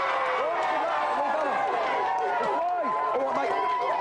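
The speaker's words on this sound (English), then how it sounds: "Give them a big cheer." A television game-show studio audience cheers and whoops continuously, a dense crowd roar with excited shouts layered throughout.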